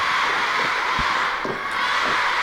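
Arena crowd at a WRESTLE NATION pro wrestling match, a steady roar of cheering and shouting filling the whole clip at a loud, even level, with a few brief voices poking out above it.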